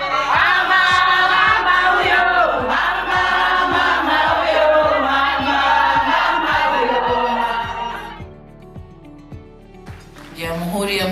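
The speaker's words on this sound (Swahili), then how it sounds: "Rais alipokelewa na Watanzania kwa nyimbo na vigelegele na ngoma ya Kimasai" Tanzanians at an evening reception sing loudly together with high ululating cries, backed by a steady, pulsing beat from a Maasai dance. The voices fade near the end.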